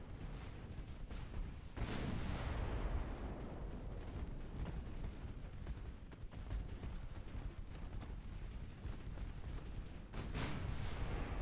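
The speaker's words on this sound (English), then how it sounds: "It's just constant barrage of fire going towards the enemy, with the occasional explosion in the middle." Relentless gunfire barrage from massed secondary guns in a video game, a dense continuous roar of shots with heavier explosive bursts near the start and end, loud and steady throughout.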